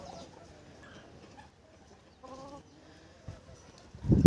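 Cochin chickens on a farm, a rooster and hens, give scattered clucks and short calls at close range, quiet at first and ending in a sudden loud squawk.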